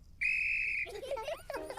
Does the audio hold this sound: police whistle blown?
yes